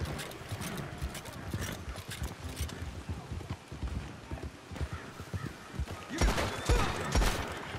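Galloping horse hooves in the Red Dead Redemption 2 video game, a fast, continuous clip-clop rhythm with heavier thuds and a brief surge near the end, with someone talking over it.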